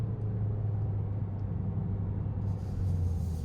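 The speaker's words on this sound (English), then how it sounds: "I have it in sport mode going up a hill, so you do hear the engine noise." A 2021 Toyota Corolla SE engine drones steadily under load, accelerating uphill in sport mode, with a low, continuous rumble, close and even throughout, no voices.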